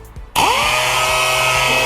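A power sanding pad grinds across a hail-damaged car body panel, starting abruptly after a brief quiet and then holding a loud, steady whine with a constant high hiss close by.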